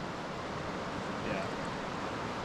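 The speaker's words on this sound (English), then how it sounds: "See, there's a creek coming in right there." Creek water flowing into a river, a steady broadband rush of moving water heard close and fairly soft, with no other sounds standing out.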